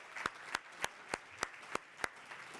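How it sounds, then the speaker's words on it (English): Seven or eight sharp, evenly spaced claps ring out at a slow rhythm at an awards ceremony, fairly faint and sparse rather than a full crowd's applause. "give yourselves all a round of applause"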